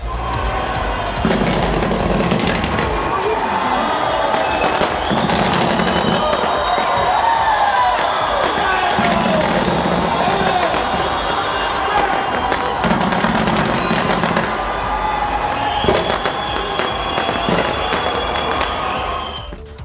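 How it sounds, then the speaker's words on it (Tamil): New Year fireworks burst over the Sky Tower in Auckland, with continuous rumbling booms and crackles beneath a steady narrating voice and the noise of a crowd. "ஆக்லாந்து நகரில் உள்ள ஸ்கை டவரில் புத்தாண்டை வரவேற்கும் வகையில் வான வேடிக்கைகள் கண்ணை பறித்தன."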